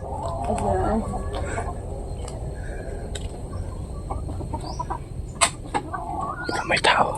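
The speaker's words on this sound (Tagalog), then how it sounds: "Ayun, meron po mga manok dito." Chickens cluck and squawk in short bursts against a low outdoor rumble, with a voice or two faintly mixed in among the birds.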